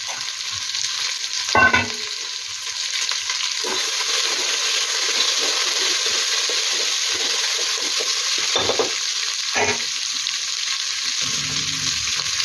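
Field beans (avare bele) are stirred and fried with onion and curry leaves in a pan, giving a continuous sizzle with occasional louder scrapes and stirring knocks, close and steady throughout.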